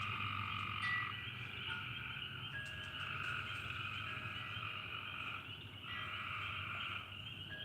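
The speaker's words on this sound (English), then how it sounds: "Oh, yeah, the frogs are kicking up, aren't they?" Frogs croaking outdoors in the evening near a front porch, a loud dense chorus of steady trilling calls with no talk.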